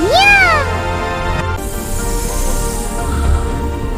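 A cat gives one close, clear meow that rises and falls in pitch, followed by a steady low hum of background noise.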